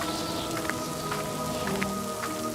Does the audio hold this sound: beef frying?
no